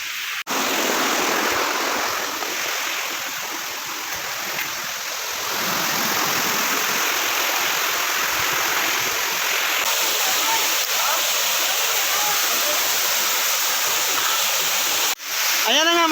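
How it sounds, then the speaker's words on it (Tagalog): Roar of Kinahulugan Falls in Lagonoy, Camarines Sur, a steady loud broadband rush of falling water that stays constant and close throughout, with a brief dip near the end. "andito na tayo sa ipinagmamalaki ng Lagunoy, Camarines Sur, ang Kinahulugan Falls."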